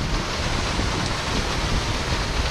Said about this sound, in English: Just a small little waterfall,